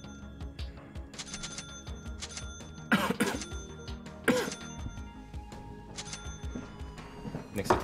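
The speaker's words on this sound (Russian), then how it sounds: "У меня вот этот кашель, он еще остался после коронавируса." A person's cough and throat clearing, a lingering cough left over from COVID, sounding in a few short bursts around the middle and end over a low, murmuring background.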